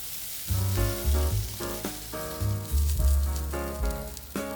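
Green chili peppers pan-frying in a pan, a steady crackling sizzle with repeated louder bursts and faint stirring, close up with no talk.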